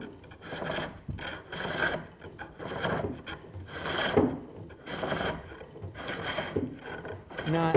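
A chisel shaves a spinning wood cylinder on a lathe, making rhythmic rasping scrapes that repeat roughly every second, near and moderately loud, with a voice faintly underneath.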